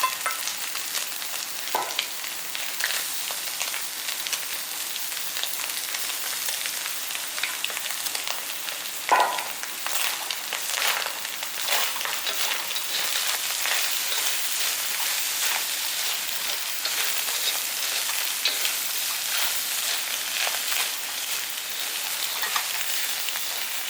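Onion stir-frying for ramen noodles sizzles steadily in a hot pan, with brief clinks and scrapes of stirring over continuous frying crackle and no talk.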